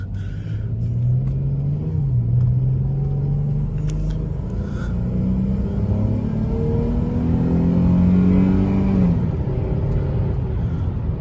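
A Chrysler 300 engine revs up and down in a steady, close rumble, with pitch rising toward the end before dropping off.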